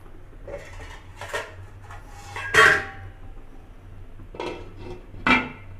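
A lid goes onto a pot of simmering South Indian vegetable broth, with a few metallic clanks and clinks of pot and utensils, one louder clatter in the middle, close by in a quiet kitchen.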